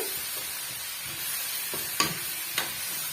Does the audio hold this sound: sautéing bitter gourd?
yes